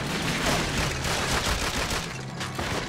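Rapid, sustained machine gun fire in the Call of Duty: Finest Hour video game, loud and continuous bursts with booming impacts mixed in.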